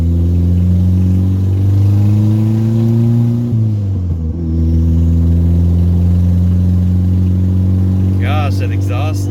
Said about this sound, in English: That exhaust leak or whatever that is, it sounds terrible.